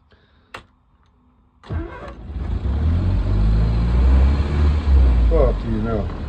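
An engine cranks and catches on a light touch of throttle, then settles into a steady, loud running note with small revs. A sharp click comes first, and people talk briefly over the running engine.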